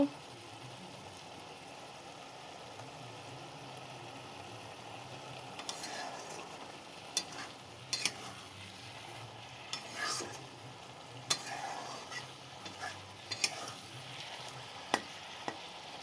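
Beto (bathua) greens stirred and cooked moist in a pan, with a soft low sizzle and scattered scraping, clacking stirring strokes, fairly quiet and close throughout.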